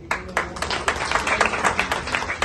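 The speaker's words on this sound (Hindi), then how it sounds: "एक बार जोरदार तालियां बजाएं।" Audience at a Moradabad club remembrance event clapping, a brisk irregular burst of individual hand claps building into steady applause, fairly close and loud.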